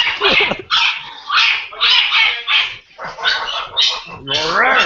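A dog barks and whimpers close and loud in a steady run of yelps, yips and whining cries that fills the whole stretch, with no words spoken.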